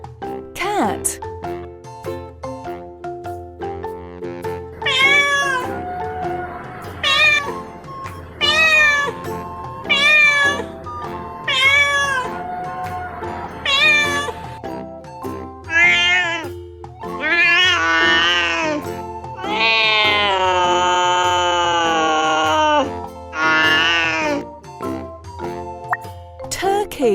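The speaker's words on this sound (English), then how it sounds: "Cat." A domestic cat meows in a series of distinct, drawn-out calls, some stretching into a wavering caterwaul, with short gaps between them and a voice briefly present.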